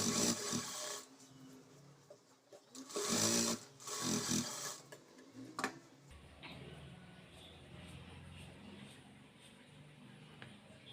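Sewing machine stitching the lining of a blouse front, with short bursts of rapid needle clatter separated by brief pauses, then a softer, steadier run, close and alone.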